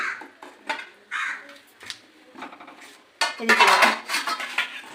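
Potato pieces being lifted and dropped into batter in a bowl while making potato-tomato cutlets, with clinks of utensil against dish and a wet, louder stretch of scraping toward the end, close up.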